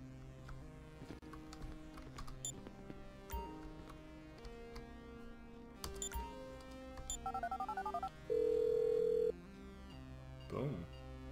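Phone dialed in Grand Theft Auto 5 during the prologue heist mission: a short run of electronic keypad beeps followed by a steady held tone, heard over a dense music and action bed.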